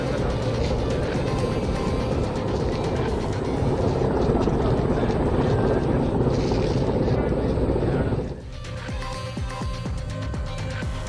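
An NDRF rescue helicopter flies overhead during a mountain rescue on Brahmagiri hill, its rotor producing a loud continuous thumping roar that drops abruptly in level near the end, mixed with voices.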